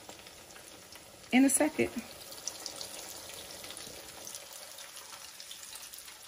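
Salmon croquettes dropped into hot grease in a home kitchen, a sudden burst of loud sizzling and splatter that settles into a quieter steady fry, with a brief spoken remark over it.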